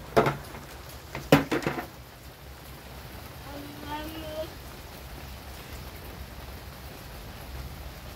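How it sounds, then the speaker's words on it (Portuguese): Rain falls on a small farm as a steady, even patter, with a couple of sharp knocks early on and faint voices in the background. "Chuva, né?"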